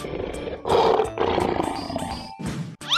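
A lion's deep roar rumbles in several long bursts, loud and close, with brief pauses between, ending in a sharper grunting call.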